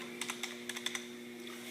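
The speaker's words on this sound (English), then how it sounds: "type the information I wrote into the computer" Fingers tap on a computer keyboard in a quick, light run of about eight keystrokes, close and clear over a steady electrical hum.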